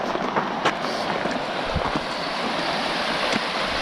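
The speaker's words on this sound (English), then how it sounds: "So there's the river." The San Francisco River flows in a steady broadband rush heard from the bank outdoors, with wind buffeting the microphone and a few soft thumps, and no clear talk.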